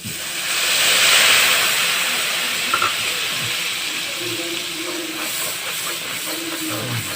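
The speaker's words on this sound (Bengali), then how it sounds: "এখানে আছে আদা, লঙ্কা আর একটু ধনে জিরের গুঁড়ো দিয়ে এবার মশলাটাকে কষে নেব।" Spice paste of ginger, chili, coriander and cumin powder frying in oil produces a continuous loud sizzling hiss that swells early and then settles, with faint voice-like sounds in the background.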